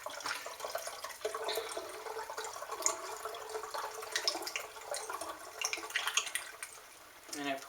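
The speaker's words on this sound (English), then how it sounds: "And I pour it up until the bubbles stop near the top of the neck." Homemade kombucha poured through a funnel into a bottle, a continuous trickling, gurgling stream of liquid with small bubbling bursts, fairly close and soft, running steadily to the end.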